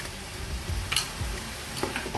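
Garlic, onion paste and ginger paste frying in hot oil give a soft, steady sizzle, broken by a few brief scraping and stirring clicks close by.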